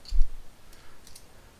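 A Gillette Lancet blade is fitted into the head of a Merkur 37C safety razor, producing a close, light metallic click and a soft knock at the start, followed by faint handling sounds, with no talking.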